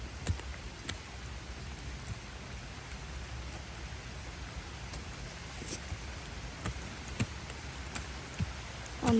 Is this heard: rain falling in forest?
yes